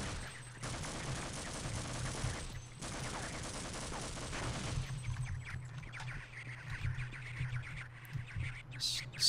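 Gunfire in the Half-Life game during a swarmed fight: dense bursts of rapid shots in the first half, broken by brief gaps, then thinning into scattered shots and chirping creature calls.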